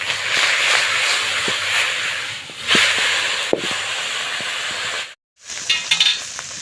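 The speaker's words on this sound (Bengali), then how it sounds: "তেল গরম হয়ে গেছে, মাছ ভেজে নিচ্ছি।" Fish sizzles in hot mustard oil in a pan with a steady close hiss, broken by a few clinks from a utensil and a brief silent gap near the end.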